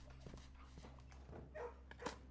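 Dog barking in the video game Blue Prince, a short bark or two heard faintly over steady low background music and ambient game sounds.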